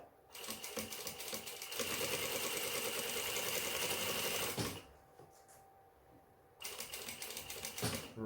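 Close, loud rapid stitching of a sewing machine sewing pants fabric, a fast mechanical chatter that runs for several seconds, stops for a moment, then starts again.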